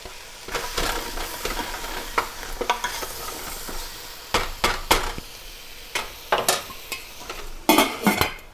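Chopped carrot and onion sizzle softly in a pan while a utensil stirs and scrapes them in irregular bursts of clatter, close up, with no talking.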